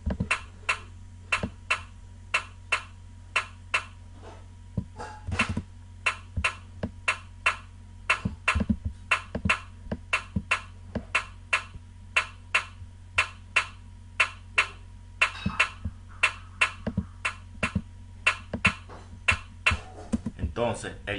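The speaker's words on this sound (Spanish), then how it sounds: "el kick y el snare suenan de esa forma" A sparse trap beat of kick and snare with sharp, regularly spaced hits over a steady low hum, playing alone at moderate volume.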